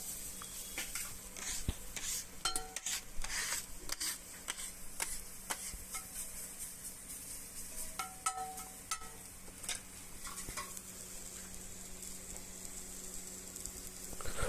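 Mint leaves stirred in a pan for a mint egg scramble produce light, irregular scraping and ticking clinks of utensil against metal over a low sizzling background, close and quiet with no talk.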